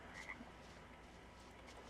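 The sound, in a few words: frog croaking in the video game Tales of Berseria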